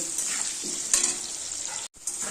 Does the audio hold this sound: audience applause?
no